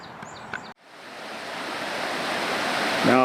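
Tisher Creek, a substantial tributary feeding a lake, flows as a steady broadband rush of water that swells slightly and holds constant, preceded by a brief dropout and a few faint clicks.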